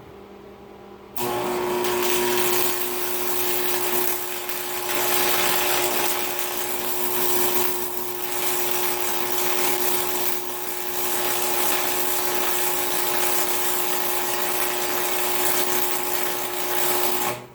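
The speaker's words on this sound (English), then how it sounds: "That's my first AC weld ever." Old Miller Thunderbolt AC/DC stick welder running an AC arc: a loud, steady crackling buzz with a strong hum that starts abruptly after a second of quiet and holds continuously to the end.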